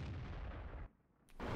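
Tank cannon shot in the World of Tanks game, a single heavy booming blast that cuts off into a short near-silent gap before the game's background noise returns.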